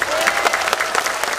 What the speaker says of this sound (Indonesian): Kurang kenceng, tepuk tangan.